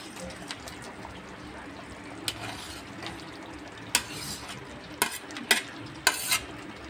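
Jackfruit fries with spices in a pan under a faint, continuous crackle. Scattered sharp utensil scrapes and knocks grow more frequent toward the end.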